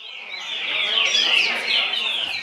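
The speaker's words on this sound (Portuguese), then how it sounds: "Este coleiro, chamado Chaveco, ganhou na sua roda." A double-collared seedeater (coleiro) songbird sings at a timed birdsong competition. A continuous run of bright, high whistled phrases rises and falls clearly for the whole stretch.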